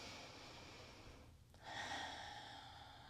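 A soft breath is drawn and let out after releasing a crow pose warm-up in a yoga session, faint and close with a gentle rush of air, no talking.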